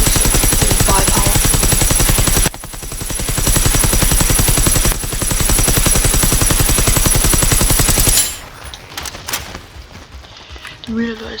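Rapid automatic fire from an experimental weapon in the video game Generation Zero, long loud sustained bursts with a fast mechanical rhythm and two short pauses, cutting off into quieter game sounds and a reload-like clatter near the end.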